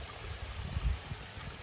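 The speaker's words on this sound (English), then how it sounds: "there's a little trickling stream if a person needed to get water" A small stream trickles beside a hiking trail on the Appalachian Trail near Laurel Falls, giving a steady, soft, low watery rush with no voices over it.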